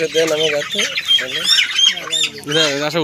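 Poultry-farm chickens squawk and cluck loudly right up close, several birds calling in quick overlapping bursts with harsh, rising cries.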